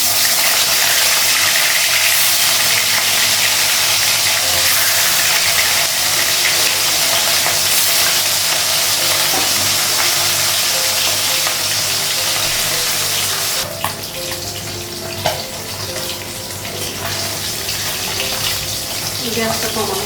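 Fish frying in oil in a pan in a home kitchen, a loud, steady broadband sizzle and hiss that runs throughout, softening slightly partway through with a few sharp pops.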